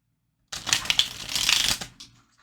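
A tarot deck riffled and shuffled close up, a dense burst of rapid fluttering clicks lasting over a second, then a brief settling tap.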